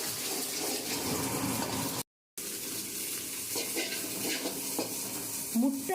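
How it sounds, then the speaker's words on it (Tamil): An egg frying in oil on a high flame for spicy bachelor noodles, a steady sizzling hiss with stirring scrapes, a short gap partway, and faint voices near the end. "எண்ணெய் ஊற்றிட்டாரு. அப்புறம் அது மேலே அப்படியே எக்கு போட்டுட்டாரு"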